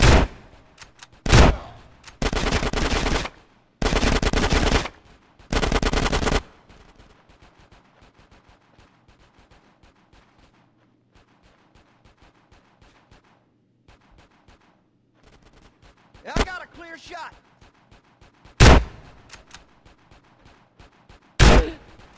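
Bursts of gunfire in the video game Grand Theft Auto: San Andreas: several loud sustained volleys early on, then quieter stretches broken by a few sharp single shots near the end.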